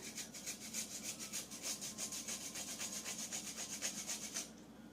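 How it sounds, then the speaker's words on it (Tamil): Ginger is grated by hand in a home kitchen, with a fast rhythmic rasping of steady strokes for about four and a half seconds, close and quiet. "இஞ்சியை இந்த மாதிரி துருவி போட்டுக்கிறேன்."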